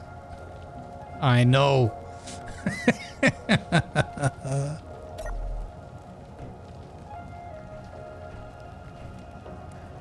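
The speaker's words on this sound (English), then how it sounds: "Weather, please. Hailstorm, yes." Hailstorm weather pelts the ground in the Space Engineers survival game as a steady, fairly quiet patter across the whole stretch, with a person chuckling and speaking briefly over it.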